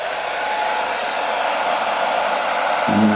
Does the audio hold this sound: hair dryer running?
yes